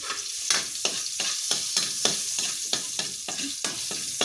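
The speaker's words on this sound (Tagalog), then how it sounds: "Gisa ko muna yung karne." Meat sautéing in reused frying oil in a pan for Filipino adobong sitaw, a steady close sizzle broken by regular rhythmic scrapes and stirs of a utensil about every half second, with no talking.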